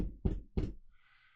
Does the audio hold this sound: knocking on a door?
yes